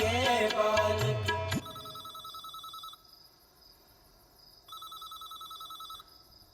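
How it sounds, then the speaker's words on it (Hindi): A brief burst of singing cuts off, then an electronic phone ringtone trills in two repeated bursts with a short gap between them. "ओहो, इस टाइम किसने फोन किया?"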